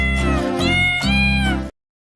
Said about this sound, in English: Steve also has a bunch of short orange cat videos that he can just pull up at any time during the show